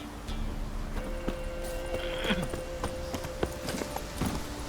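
Roach the horse trots along in The Witcher 3, hooves clip-clopping in a steady even rhythm over a constant ambient bed, with a sustained musical tone running underneath and no one speaking.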